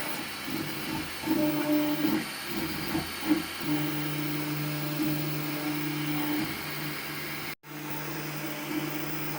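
A JG Aurora Z-603S 3D printer runs a print of box lids, its stepper motors whining in steady sustained tones with shifting pitches and a constant fan hiss, cutting out abruptly for a moment near the end before resuming.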